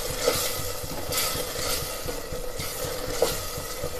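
Masala with Kashmiri red chilli frying in a pan for Punjabi-style aloo lobia, giving a steady close sizzle with soft scraping stirs and a couple of light utensil taps.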